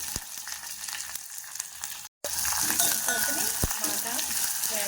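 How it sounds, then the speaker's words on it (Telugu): Dry red chillies, onion pieces, green chillies and curry leaves frying in hot oil for a Telugu pesara kattu, a steady broadband sizzle broken by a brief silent gap, then resuming louder with crackling pops and a few scrapes. "అలానే ఎండుమిర్చి అలానే ఉల్లిపాయ ముక్కలు పచ్చిమిరపప్పు కూడా వేసుకుని కొద్దిగా కరివేపాకు కూడా వేసుకోవాలి"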